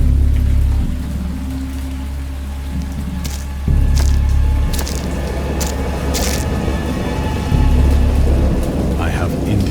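A thunderstorm in the video game Dagon: heavy rain pattering steadily while deep rolls of thunder swell and fade several times, loud and close.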